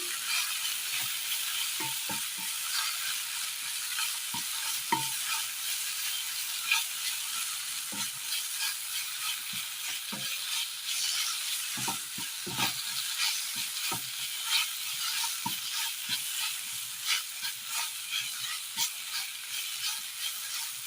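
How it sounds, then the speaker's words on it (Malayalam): Turmeric, chili and coriander powders fry in hot oil in a pan, making a steady, bright sizzling hiss throughout with frequent soft spatula scrapes and taps, close and with no talking. "മഞ്ഞൾപ്പൊടി മുളക് പൊടി ഇട്ട് കൊടുത്ത് നന്നായി ഒന്ന് മൂപ്പിച്ചെടുക്കാം"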